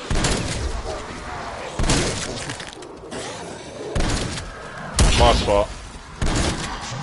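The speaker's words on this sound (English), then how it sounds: "Let's see if I can shoot somebody right up close" Gunfire in Call of Duty Zombies, the Dark Aether mode, fired at close range: several sharp bursts and thuds of shots and impacts in quick succession, loud and near, with a player talking over them.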